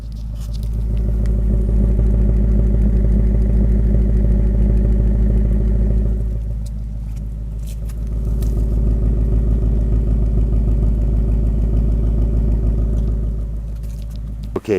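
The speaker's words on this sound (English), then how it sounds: "Now I'll walk around the back and we'll get a listen to that exhaust." A car's exhaust rumbles steadily from close behind the vehicle, deep and loud, softening briefly midway before the low, even drone returns, with no talking.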